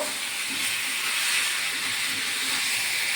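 Fried pointed gourd sizzles in oil as it is stirred with spice paste, giving a loud, continuous, hissing fizz that stays even from start to finish with no talking.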